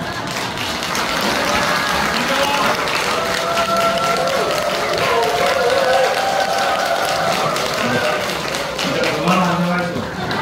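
Church congregation clapping loudly to welcome guest speakers at a Korean men's mission association worship service, a dense, steady ovation lasting throughout with voices mixed in.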